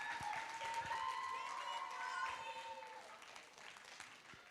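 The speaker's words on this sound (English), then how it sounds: "Let's give her a round of applause." Audience at a comedy festival show clapping for a performer, a continuous faint spatter of hands heard from a distance, with a sustained tonal hum running beneath it and fading slightly toward the end.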